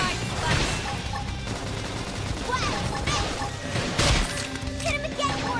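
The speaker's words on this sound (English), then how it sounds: "Flash grenade!" A flash grenade bursts amid combat in Xenoblade Chronicles X, cracking sharply among repeated gunfire and impact bangs, with shouted battle calls running over the loud, busy fight.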